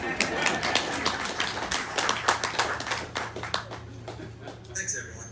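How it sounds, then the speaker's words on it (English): Guests at a memorial service give a modest round of applause, individual claps distinct and uneven, close and fairly loud at first and tapering off as the clapping dies down, with a few voices audible around it. "You can clap, it's okay."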